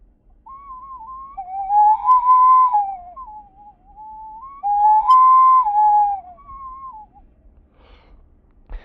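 An ancestral ceramic whistle bottle with a 16-hole resonance head sounds two long, wavering breathy whistle phrases, each holding two or three blended tones, close and clear against silence.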